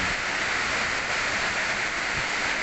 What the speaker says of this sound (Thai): ลมกระโชกแรงจ้า